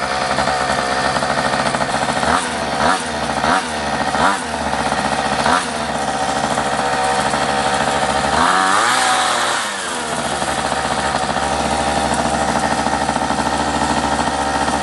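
A restored mini motorbike engine, once abandoned, runs loud and close with the choke fully off, a steady buzzing idle broken by several quick throttle blips and a deeper revving surge partway through.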